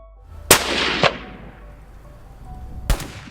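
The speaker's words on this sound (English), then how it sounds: "The sound of gunfire pierced the sky." Two sharp gunshots from hunters shooting at baboons in South Africa, close together, the first with a long echoing tail, then a third shot a couple of seconds later.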